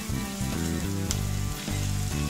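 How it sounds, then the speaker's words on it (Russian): Fish and onions frying in a pan, a steady close sizzle with soft crackling and faint stirring, no talking. "Теперь рыбку выкладываю назад в сковородку."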